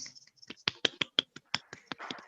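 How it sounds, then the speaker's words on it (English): A dozen or so quick, uneven hand claps from a small group of children, close by and crisp, bunched in a short irregular burst. "All of you can clap your hands."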